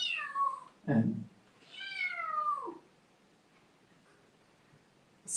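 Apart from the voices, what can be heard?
black kitten meowing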